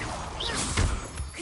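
A Confringo spell cast in a video game, a brief crashing whoosh with a low thump in the middle, quick and close against a busy game background.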